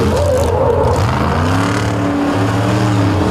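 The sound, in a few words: vehicle spinning its tires, smoking them on asphalt at Indy Jamboree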